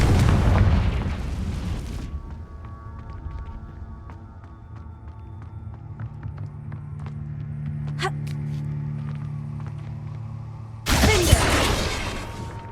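A Confringo fire spell explodes in the Hogwarts Legacy video game as a loud booming burst. Quieter game ambience with light clicks follows, then a second heavy blast.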